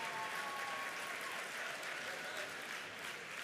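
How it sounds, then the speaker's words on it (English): An audience applauds at an evening gala, a dense steady roar of clapping that fills the whole short stretch without pause. "Let's give them a round of applause."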